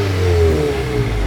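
A car engine revs briefly at a car show, a throaty, rising growl heard close and loud for just over a second.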